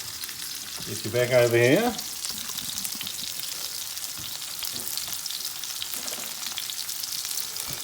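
Mushrooms par-cooking in a hot pan, a continuous sizzle and spit at close range, with a brief spoken line near the start.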